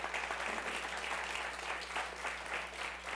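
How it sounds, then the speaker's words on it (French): A gathered audience claps in appreciation for volunteers' good work, a fairly quiet, somewhat distant wash of many hands over a low steady hum, continuous for a few seconds. "j'aimerais ça qu'on les applaudisse pour le beau travail qu'ils font"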